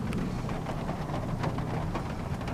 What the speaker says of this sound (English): It is rainy and stormy and lightning and thunder.